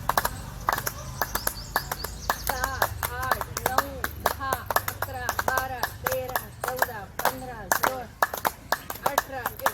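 Older people clapping outdoors in a garden during a Rangpanchami colour celebration, sharp rhythmic claps in a steady beat while voices count aloud together.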